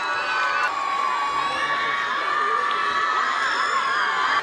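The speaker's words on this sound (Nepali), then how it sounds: "ल जोरदार तालीले" A school-event audience cheers and shouts in a dense, continuous roar of crowd voices and whoops, loud and sustained throughout, with high shrill tones running over the noise.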